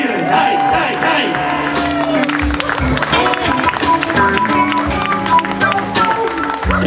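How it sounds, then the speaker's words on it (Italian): A crowd at a live jam night at a club claps and cheers amid loud music, with sustained tones and beats mixed into the lively noise while voices call out over it. "applauso, fatevi sentire, dai, dai, dai."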